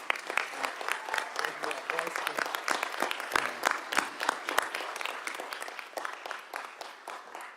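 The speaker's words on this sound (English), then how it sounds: "Let's clap it up for our new superintendent." Applause at a board of education meeting for a new superintendent, a steady spell of clapping from a modest room of people that slowly tapers off, with some voices mixed in.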